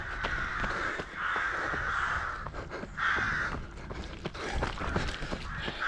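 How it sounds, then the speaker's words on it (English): Crows caw repeatedly among other birds calling outdoors during a run, a steady chorus of harsh caws rising and falling over constant background noise. "choir of birds there"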